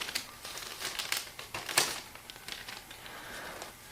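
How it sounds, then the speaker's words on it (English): A plastic bag topper on an Easter treat bag crinkles and crackles in quick, irregular bursts, close and fairly quiet, with no voices. "hold on, crinkle moment"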